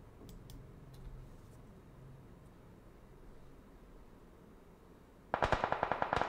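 Video game gunfire bursts in suddenly near the end as a rapid, loud string of machine-gun shots following a quiet stretch with faint ticks.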